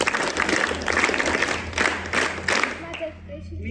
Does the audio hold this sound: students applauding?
yes